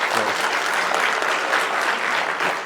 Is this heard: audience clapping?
yes